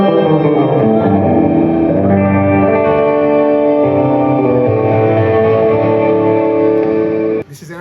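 Guitar played through a reverb effect pedal with only the wet signal, sustained washy chords blooming and overlapping in a long reverberant tail, loud and steady before cutting off abruptly near the end.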